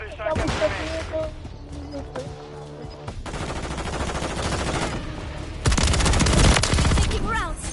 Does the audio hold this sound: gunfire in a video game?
yes